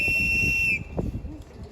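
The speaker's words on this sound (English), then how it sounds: "I think somebody's got a whistle there, Nick." A water safety whistle, the kind made to work in the water, blows one loud, steady, shrill blast of under a second, then stops. Soft talk and background noise follow.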